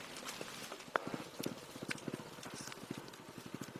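Horses plodding home laden with fresh-picked marijuana in rural Colombia, hooves clip-clopping in a steady, fairly quiet rhythm with faint outdoor ambience.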